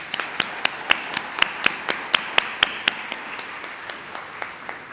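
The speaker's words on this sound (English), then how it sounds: "Let's give these folks a round of applause" Sparse clapping at a graduation celebration comes as crisp, evenly spaced single claps in a steady rhythm, close and distinct rather than a full crowd roar.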